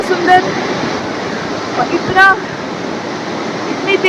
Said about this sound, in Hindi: इतनी तेज आवाज हो रही है नदी से कि कुछ भी सुनाई नहीं दे रहा है आसपास।